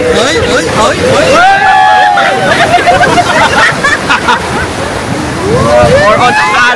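Water waves crash and surge at a water attraction at Lihpao Land theme park in Taiwan. Loud wind-blown rushing is overlaid by excited shouting and chatter from the crowd.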